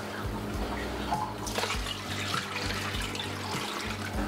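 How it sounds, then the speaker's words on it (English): Fresh tap water runs steadily into a plastic tub, a continuous splashing gush at close range with no talking. "For the rest of the water, I'm going to be using fresh water from the tap."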